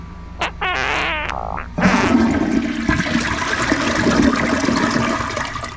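A Glacier Bay toilet flushes loudly nearby with a sudden gushing rush of water that churns on steadily, preceded by a short squeaky, bubbly vocal noise.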